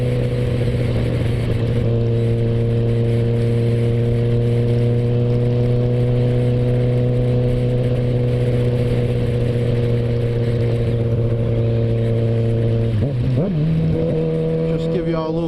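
A 2016 Kawasaki ZX14, a 1441 cc sport bike, running through a Voodoo exhaust: a steady, loud, throaty drone held at constant revs, with a brief blip of throttle near the end.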